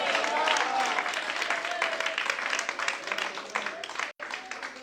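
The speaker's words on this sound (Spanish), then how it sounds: "Dale un aplauso." Congregation applause during a sermon, a dense sustained clatter of many hands, moderately loud and even, with voices mingling under it and a brief break near the end.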